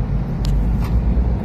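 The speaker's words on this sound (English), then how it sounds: "We're in the fast lane, trailing a sports car." Steady low road roar and tire rumble from inside a car cruising in the fast lane of a Japanese expressway while trailing a sports car, loud and continuous with brief higher whooshes of passing air.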